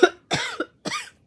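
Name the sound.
cough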